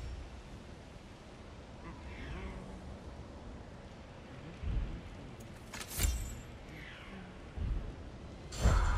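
Stormy weather in the God of War Ragnarok video game: a steady wash of rain under low rumbles, with a few louder thunder-like surges near the end and game voices talking over it.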